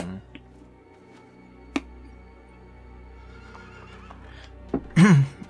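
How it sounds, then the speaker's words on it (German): A horse in the LEGO Lord of the Rings video game lets out a loud, close whinny near the end, after a quiet stretch of faint game ambience and a couple of soft clicks. "Die Pferde werden bekloppt."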